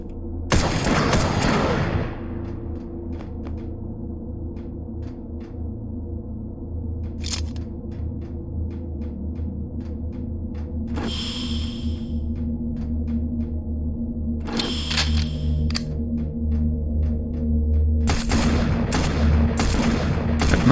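Gunfire in the first-person shooter Doomed, Level 3: sharp, separated shots ring out again and again over a steady game-ambience drone, with a heavier cluster of blasts at the start and toward the end.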